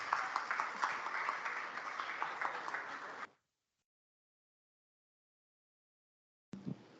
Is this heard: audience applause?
yes